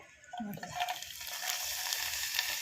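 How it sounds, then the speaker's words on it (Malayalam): Sun-dried ivy gourd pieces sizzle in hot oil, a brief close crackling hiss that swells after a soft splash and holds steady. "എന്നിട്ടത് വറുത്തെടുക്കാം എണ്ണ തിളച്ചിട്ട്"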